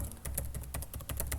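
Rapid, quiet typing on a computer keyboard, with closely spaced clicking keystrokes in an uneven rhythm and no talking.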